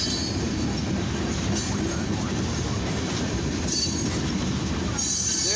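An eastbound mixed freight train rolls past nearby in the evening with a steady heavy rumble, rattling cars and clattering wheels, continuous and loud throughout.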